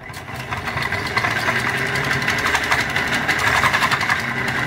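A 3D printed turbocharger spinning at full power gives a loud, steady mechanical whine and buzz with a fast rattling pulse, close up and continuous.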